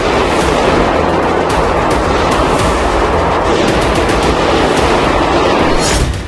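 Dense, loud automatic gunfire rattles without pause during the attack on Moscow's Crocus concert hall, with sharp cracks piling into a continuous harsh roar.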